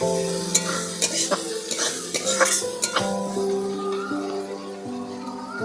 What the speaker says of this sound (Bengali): একদম কম আঁচে মশলাটা করছি